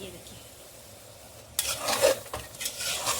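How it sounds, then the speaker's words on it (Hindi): Soya and methi keema is stir-fried in a pan, starting with a quiet hum before a spatula suddenly scrapes and stirs through sizzling food, with clattering metal close by. "सोया डाल के, सोया मेथी दोनों चीज़ डाल के भून लेंगे"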